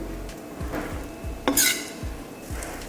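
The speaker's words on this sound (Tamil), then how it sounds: "தோசை ஊற்றிட்டு லைட்டாக மேலே எண்ணெய் ஊற்றிக்கலாம். இப்போ நம்ம பண்ண முட்டை மசாலா இது மேலே வச்சிடலாம்." A dosa cooks in a pan with oil and egg masala. A spoon scrapes in a steady repeated rhythm over a low sizzle, with one brief louder clatter midway. There is no talking.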